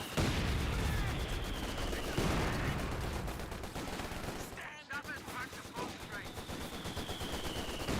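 Bursts of machine gun fire rattle through a Company of Heroes 2 battle, loud rapid volleys mixed with other gunfire and explosions, with a brief lull before the shooting resumes.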